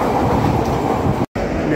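A Chicago underground metro train runs through downtown between LaSalle and Clinton stations, a loud, steady rumble and roar filling the car, with a brief dropout to silence near the end.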